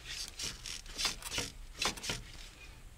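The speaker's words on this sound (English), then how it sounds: "use the wrench to loosen that bottom one because" Wrench working a stuck bottom bolt on a 2002 Honda Odyssey transaxle, giving a series of quiet, rhythmic rasping strokes and scrapes at close range with no voices.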